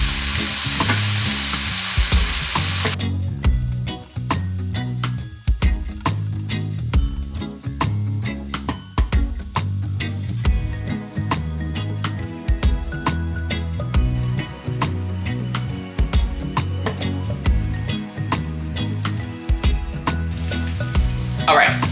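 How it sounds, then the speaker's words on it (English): Strips of bacon sizzle in a hot pan with a steady crackling hiss, heard close and continuous beneath a rhythmic music track. "So I'm gonna put the bacon in the pan"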